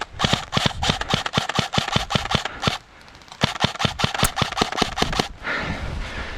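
Airsoft guns firing in an outdoor skirmish, rapid sharp snapping shots in fast volleys, a pause of about half a second, then more bursts, close and loud without talk.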